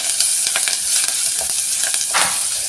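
Grated ginger and curry leaves fry in a pan while being stirred: a steady, close hiss of sizzling oil broken by soft scraping strokes of the spoon, with no voices.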